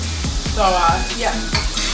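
Mashed plantains seasoned with garlic powder, oregano and black pepper stirred in a pot, giving a quick series of close scraping, squelching strokes with a faint sizzle beneath.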